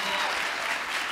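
Audience applause fills the room at a housing-solutions panel during a regional livability summit, steady dense clapping throughout with no pauses, moderately loud and close.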